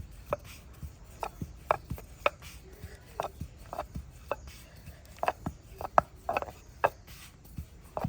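A wooden rolling pin rolls out thick bhatura dough for chole bhature, giving soft rubbing thuds and light knocks in an irregular rhythm, close and fairly quiet with no talk.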